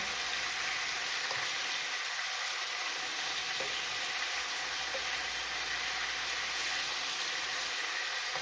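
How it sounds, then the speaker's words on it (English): Chicken pieces browning in a pan for Jamaican brown stew chicken give a steady, moderately quiet sizzle that runs evenly throughout with no talking. "You're not frying it, you're just browning it"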